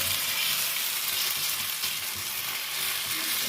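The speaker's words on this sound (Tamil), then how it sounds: "அடுப்பில் தோசைக்கல்ல வச்சாச்சு எண்ணெய் அல்லது நெய் தேவையானது ஊற்றிக்கலாம்" Oil or ghee sizzles steadily on a hot dosa griddle on a stovetop, a dense close crackling hiss that holds without a break.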